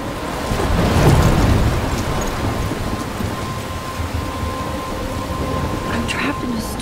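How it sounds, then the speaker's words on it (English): Steady rainfall with a rolling rumble of thunder in the video game Life is Strange, heavy broadband hiss that swells early then settles into a constant downpour with faint sharper drops near the end. "I'm trapped in a storm?"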